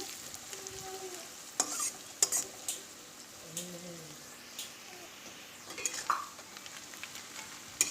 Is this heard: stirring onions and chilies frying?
yes